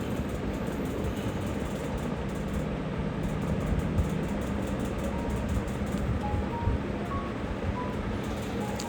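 A Dubai metro train rumbles steadily along the tracks at moderate distance, a continuous low roll with faint mechanical clatter.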